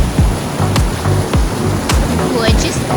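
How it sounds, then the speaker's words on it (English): Water rushes steadily along a pretty little river outdoors, a constant broadband wash close to the mic with a few brief bumps and knocks on top. "This is a pretty little river."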